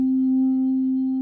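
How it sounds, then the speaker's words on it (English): A Nord organ set to a Hammond B3 sound on its most extreme vintage setting gives a single steady held tone with a faint bleed of neighbouring tone wheels, sustained evenly for about a second with no other sound. "when you press down a tone wheel, you can actually hear leakage of the tone wheels directly next to and around it"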